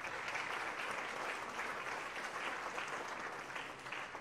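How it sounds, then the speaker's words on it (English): Steady applause from a conference audience fills the hall, dense and even clapping sustained throughout with no talk over it. "they should all be applauded"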